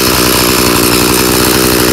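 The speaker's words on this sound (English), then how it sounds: "That's the Easy Fire 32cc" A Craftsman EZ Fire 32cc gas string trimmer runs at steady high revs, a loud, buzzing two-stroke whine heard close up and alone.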